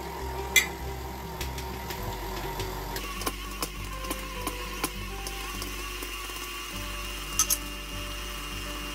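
An electric mixer runs steadily while beating frosting with confectioner's sugar, milk and vanilla, a low motor hum that shifts pitch partway through, with faint clicks and taps over it and no speech.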